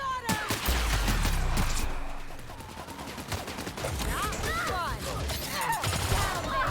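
Gunfire from a firefight in The Outer Worlds, with bursts of shots and impacts across the clip, mixed with game sound effects and voices talking over the action.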